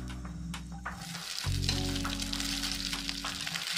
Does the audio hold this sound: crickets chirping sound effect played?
no